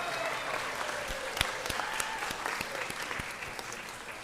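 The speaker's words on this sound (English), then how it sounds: "Please, a big round of applause for these young people joining us today in their local government." An audience in a city council chamber gives a round of applause for visiting students: a steady patter of many hands clapping, moderately distant, with a few louder individual claps standing out.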